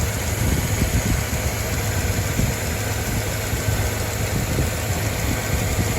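Mercedes CLK 209 engine idling while warming up, a steady close rumble with a constant low hum and faint vibration, running evenly throughout with no talking.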